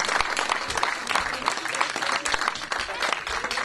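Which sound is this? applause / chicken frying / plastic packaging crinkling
applause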